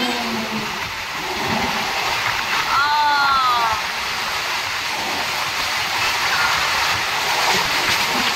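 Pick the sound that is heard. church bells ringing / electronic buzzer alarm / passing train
passing train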